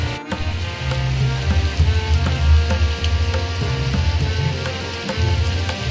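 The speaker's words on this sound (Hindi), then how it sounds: "कितने जोर वर्षा हो" Heavy rain falls in a village, a continuous patter and wash of drops on surfaces with a low, uneven rumble underneath, moderately loud throughout.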